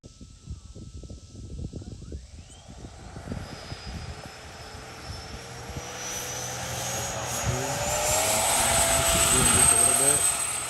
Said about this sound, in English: Let's go ahead and get it in the air, and we'll do a scale flight